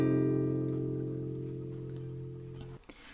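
A single open chord strummed once on a guitar, ringing out steadily and slowly fading over about three seconds before being damped, with no voices.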